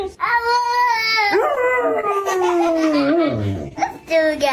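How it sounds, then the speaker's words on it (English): A Labrador Retriever dog howls and vocalizes back and forth with a little boy, drawn-out tonal howls rising and falling close to the mic, with a brief higher cry near the end. "This little boy and his dog, a Labrador Retriever, are excellent at communicating with each other."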